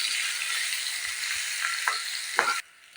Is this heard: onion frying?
yes